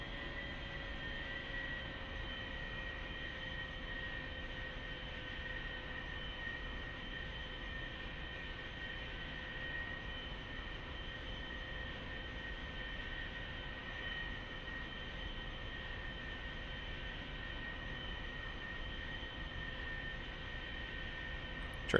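A-4E jet aircraft in the DCS World flight game, a steady, unbroken jet engine roar and whine holding at constant loudness, with a high tone running throughout and no talking.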